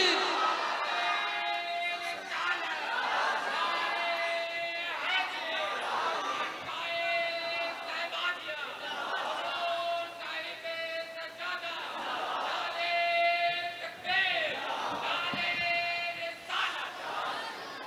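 A large gathering at an Urs religious gathering raises the Nara-e-Takbeer slogan, massed voices roaring in repeated surging waves of chanting with harmonic shouts, loud and sustained throughout with no single voice standing out.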